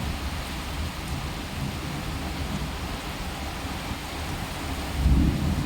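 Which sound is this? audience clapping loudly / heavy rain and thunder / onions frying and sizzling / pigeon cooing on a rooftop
heavy rain and thunder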